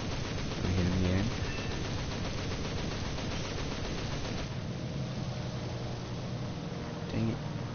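Aircraft machine guns rattle in War Thunder, a dense continuous burst of rapid fire filling the whole stretch at steady loudness, with engine drone underneath and a short voice near the end.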